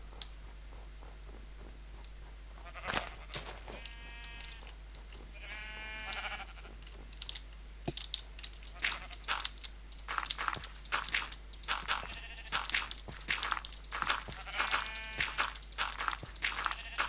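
Sheep bleat in a video game in a few short, wavering calls set over a faint steady background hum, with soft footstep-like clicks and bursts of game sound growing busier toward the end.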